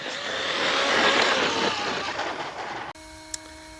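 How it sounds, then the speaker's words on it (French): A noisy little cooling fan on the speed controller of a BXR-S1 version 3 differential RC car hums loud and steady at close range, then cuts off abruptly into quiet. "avec ce variateur-là, le ventilo, il est assez bruyant, comme vous pouvez l'entendre"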